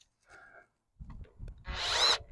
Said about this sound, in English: Let's tighten the plastic screws first.